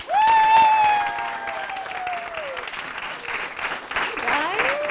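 A live studio audience of local consultants applauds and cheers at a spring launch event, a continuous crowd roar with clapping, alongside a long sustained tone and a voice at times over it.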